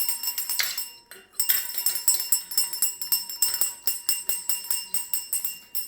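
A pet cockatoo rings a bell indoors, producing a steady run of bright metallic jingling strikes, close and fairly loud, roughly two or three per second with a short pause near the start.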